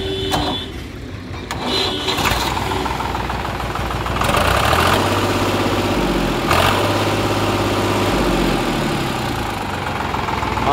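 A SAME 393 tractor's diesel engine idling steadily just after a self-start, a close, loud, even rumble with a rhythmic knock, preceded by a brief cranking burst.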